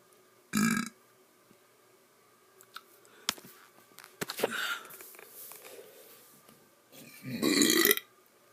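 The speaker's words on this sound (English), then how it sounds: "Being polite, I say excuse me after every burp." Several loud burps from one person, a short one near the start, fainter throaty sounds in the middle and a long rumbling belch at the end, with quiet pauses between.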